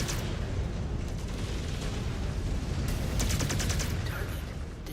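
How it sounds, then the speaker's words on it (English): Artillery cannon shells land inside a cave in the Mechwarrior 5: Clans video game, a dense, continuous barrage of rumbling booms and crackling impacts, loud and sustained throughout. "They are landing artillery inside the cave, which is some degree of impressive."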